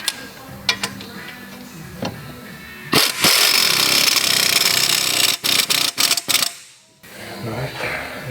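A power tool runs up to tighten a 15mm bolt on the front strut assembly of a 2009 Volvo V70, a loud sustained whirring burst from about three to seven seconds with a few short bursts after, amid clanks and handling noise.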